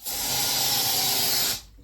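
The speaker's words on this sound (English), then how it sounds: "So Fee's got some spray, and she's going to kill those ants up there." An aerosol can sprays at ants in one steady, loud hiss lasting about a second and a half, close by, then cuts off abruptly.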